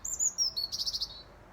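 A single bird gives a quick series of high, thin chirps, ending in a rapid trill, clear against a quiet background.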